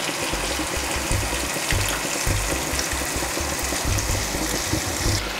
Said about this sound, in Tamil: நாங்கள் கரைச்ச புளியை புளி தண்ணியை இதுக்குள்ளே சேர்க்குறேன்.